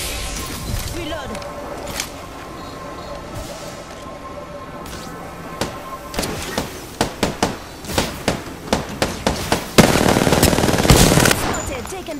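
R-99 submachine gunfire in the Apex Legends video game, with a quieter opening before rapid, loud bursts crackle repeatedly through the second half, and game voices are heard at times.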